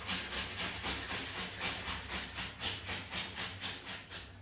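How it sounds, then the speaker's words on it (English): Tomatoes rubbed against a kitchen grater in a steady rhythmic rasp, about two strokes per second, close and fairly loud, with no voices. "Yeah, I'm grating the tomatoes, you can see."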